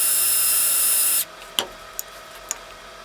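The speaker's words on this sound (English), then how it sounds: "take a 3mm drill and make a hole where the small rivet head is" A 3mm drill bit makes a hole where a small rivet head sits, a loud high steady whine lasting about a second that cuts off abruptly, followed by a few faint, sharp clicks.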